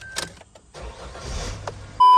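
A Toyota Hilux that has sat unused for a week or so is started up: shuffling and clicks, a short cranking burst, then the engine catches, ending with a steady electronic beep.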